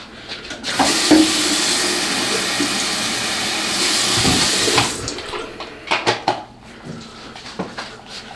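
Tap water runs loudly and steadily into a container already holding rice water, then shuts off, leaving scattered splashes and knocks at close range.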